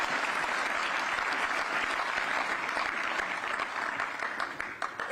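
A large crowd claps loudly and steadily for several seconds, the dense applause thinning slightly toward the end.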